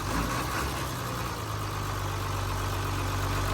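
A Hino KT 925 ten-wheel truck idles with a steady low engine rumble and a continuous even drone, close and unbroken throughout with no voices.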